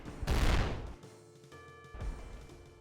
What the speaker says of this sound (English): Triple grenade launcher, I suppose.